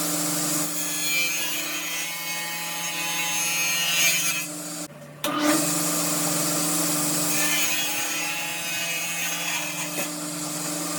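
A power saw cuts a walnut box open to separate the lid, making a continuous steady whine and rasp that breaks off briefly midway, then resumes.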